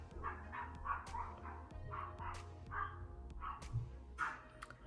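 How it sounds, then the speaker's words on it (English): Several dogs barking outdoors in a repeated burst pattern, moderately distant, carrying through steadily over a low background hum. "I don't know if y'all can hear that, literally every day some dogs go at it."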